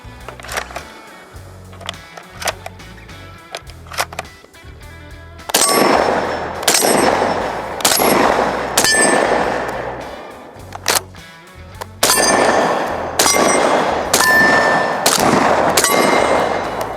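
An IWI Tavor TS-12 bullpup shotgun fires birdshot, buckshot and slugs outdoors in quick succession. Loud, sharp blasts come roughly once a second in two long strings, each followed by metallic ringing, with quieter clanks in between.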